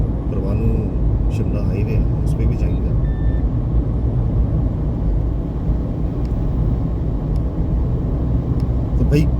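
A Force Gurkha SUV drives on a highway near the Parwanoo–Shimla road, giving a steady loud engine and road drone heard from inside, while someone talks over it at the start.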